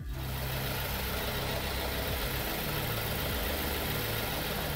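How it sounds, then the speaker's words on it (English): A car engine fitted with a ZF 6HP19 six-speed automatic transmission runs at a steady idle, a close continuous low rumble with a faint whine and no talk. "right away we start the engine"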